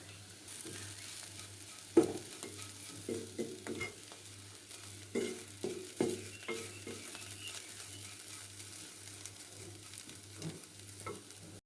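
Onions and chili flakes fry gently in a pan, a soft, faint sizzle broken by scattered scrapes and clinks of a spoon stirring, with a low steady hum underneath.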